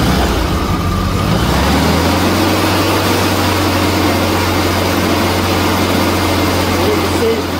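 A 1979 VW Beetle engine runs loud and close with a steady low drone, its pitch shifting slightly early on as it revs during acceleration, over a constant mechanical rush; faint speech sits underneath.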